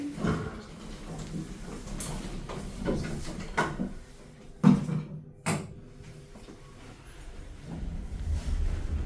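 Lift doors sliding shut at Cabot Place, Canary Wharf, with a few soft thumps and rumbles over low mechanical hum, including one sharper knock midway, no voices.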